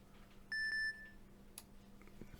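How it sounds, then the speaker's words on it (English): Electronic keypad double beep sound effect: two short, bright, identical tones in quick succession, followed by a quiet background hum and faint clicks. "there's my keypad double beep."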